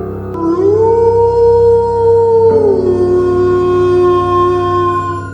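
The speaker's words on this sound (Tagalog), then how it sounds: "tuwing gabi, napapansin ng mga kapitbahay na sabay-sabay na tumatahol ang mga aso" Dogs howl at night, sustained wavering cries that rise, hold and overlap for several seconds, loud and close with no voices.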